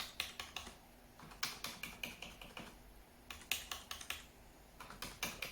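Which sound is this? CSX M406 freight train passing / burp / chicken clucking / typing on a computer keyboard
typing on a computer keyboard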